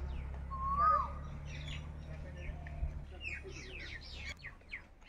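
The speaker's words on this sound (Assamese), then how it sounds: "চৰাই মাতেৰে পূৰ্ণ এটা ৰাতিপুৱা।" Morning birdsong around a rural home in Karbi Anglong: a clear whistled call, then a quick run of bright chirps and tweets, set against a steady low hum.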